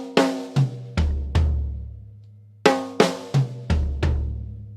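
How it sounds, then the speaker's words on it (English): A drum fill on an acoustic kit: two snare hits, then a tom, then two floor tom strikes, played twice with clear decaying hits and no talk. "So snare twice, tom, floor tom twice."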